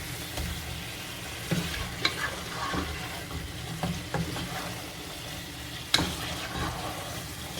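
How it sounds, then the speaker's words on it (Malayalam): Chicken for a Kerala varutharacha curry is stirred in a pan after a splash of lemon juice, the meat about three-quarters cooked. A spoon scrapes and knocks against the pan at irregular intervals over a soft, steady sizzle. "ഇളക്കി കൊടുക്കുക."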